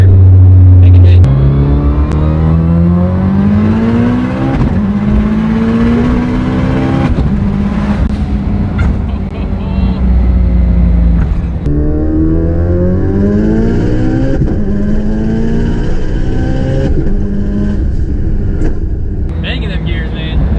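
800+ horsepower Mitsubishi Eclipse GSX AWD with a dog box accelerating hard, engine pitch climbing repeatedly through quick gear shifts with sharp breaks between gears, loud and close from inside the car, with people talking over it.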